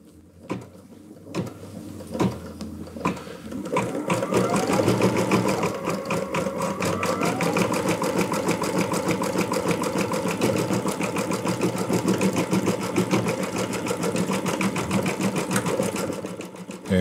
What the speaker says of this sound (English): I heard that little click as that twist got kind of dragged through the tension